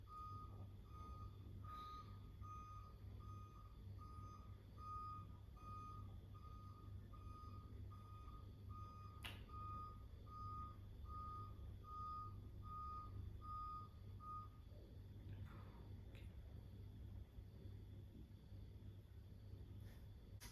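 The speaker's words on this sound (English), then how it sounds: "there's a car making noise outside" A truck outside repeats steady reversing beeps at a regular pulse for about fifteen seconds, faint and distant behind a constant low rumble, with no one speaking.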